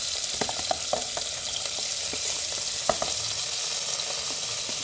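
Onions fry in hot oil with cumin seeds in a pan for a taro root curry, giving a steady, close sizzle with occasional crackles and stirring scrapes and no voices.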